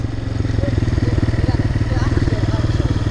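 A quad ATV engine runs with a loud, close, rapid pulsing rumble, with people talking over it.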